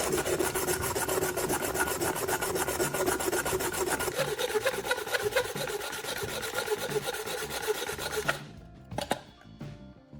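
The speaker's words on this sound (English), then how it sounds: "I'm using sandpaper to thoroughly sand off all the paint and protective coating" Close, rapid rasping of sandpaper sanding paint and coating off an aluminum can continues for about eight seconds, then stops, followed by a few light knocks.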